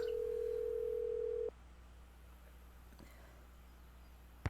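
A steady telephone dial tone during a call in the Nancy Drew game The Secret of Shadow Ranch, holding clearly for about a second and a half and then cutting off, leaving quiet hiss and a faint click near the end.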